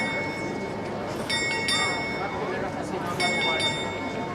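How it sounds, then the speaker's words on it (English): Prague's astronomical clock chimes on the hour, with two short bursts of ringing bell tones over a steady hum of crowd chatter and street noise. "Every hour, go in front of the clock and you can see it chime and then the little saints coming out."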